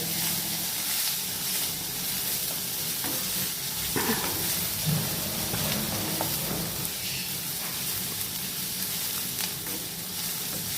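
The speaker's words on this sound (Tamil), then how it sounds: "பெரிய வெங்காயம் ஒன்று அதையும் போட்டு நல்லா கொஞ்சம் வதக்கி விடலாம்" Chopped large onion sautéing in an oily pan for palak lasooni, a steady close sizzle with occasional stirring scrapes and spatula knocks, continuing alone without talk.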